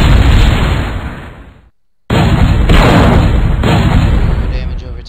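Ballistic weapons fire in the Mechquest video game as loud, dense, sustained booming blasts that drop out briefly before resuming at full strength.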